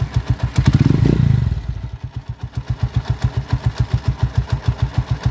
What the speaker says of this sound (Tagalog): Yan yung andar ng motor ni kabro.